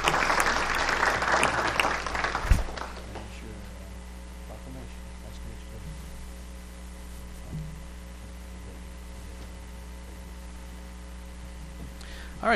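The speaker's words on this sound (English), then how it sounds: "Let's give them a round of applause." Applause from the audience at a city council meeting in Jefferson City, Missouri, a burst of clapping for about three seconds, then quiet room hum.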